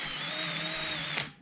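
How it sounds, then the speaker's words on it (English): A charged cordless drill spins steadily at close range with a continuous high whine for over a second, then winds down quickly as the trigger is released. "I don't know if we have a charged drill."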